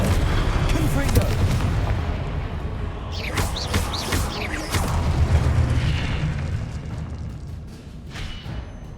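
Explosions from the Confringo fire spell in the Hogwarts Legacy video game: a loud, continuous barrage of booms and crackling bursts, with several sharp whooshing blasts packed together in the middle.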